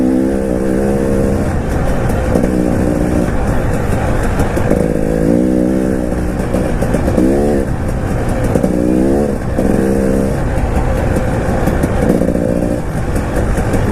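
A 2019 KTM 300 EXC TPI two-stroke dirt bike rides through mud, its engine revving loud and close in repeated rising and falling surges as the throttle opens and closes.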